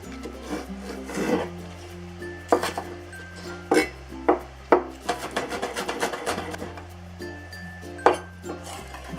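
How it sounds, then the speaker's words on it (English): Knife chopping green onion on a wooden cutting board for Sichuan-style chili sauce wontons: irregular close taps and scraping strokes, some quick runs of chops, with no talking. "next let's mince the green onion"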